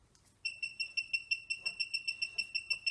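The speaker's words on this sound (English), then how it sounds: "you'll hear an audible beep whenever you access or see tags" An RFID reader emits a rapid series of short, high-pitched electronic beeps as it reads tags, repeating steadily at an even rhythm, clear and close with no voices.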